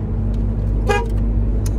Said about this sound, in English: Give a little honk